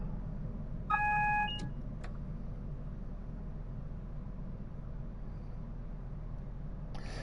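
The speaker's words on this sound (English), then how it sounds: "Yeah, it goes over a certain speed. There is a buzz sound there, isn't there?" An overspeed buzzer sounds in a Class 170 train cab in Train Sim World 5: a single short electronic tone lasting about half a second, followed by a faint click, over a steady low rumble of the running train.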